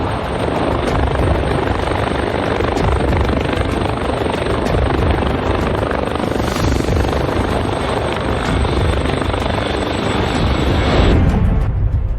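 An MH-139 Grey Wolf helicopter, the U.S. Air Force's new model, roars past in steady, loud rotor and turbine noise that holds strong for the whole stretch before cutting away abruptly near the end, with no talking.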